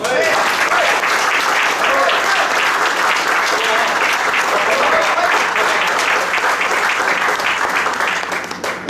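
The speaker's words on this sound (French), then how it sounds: "Voilà, on peut l'applaudir." Steady, dense applause from a large audience, loud and continuous throughout, with no individual voices standing out.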